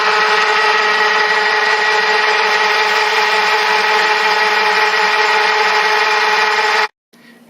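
A loud, steady whine of a drill boring a 6.1mm hole through a brake block for a model railway locomotive runs continuously for about seven seconds, then stops abruptly.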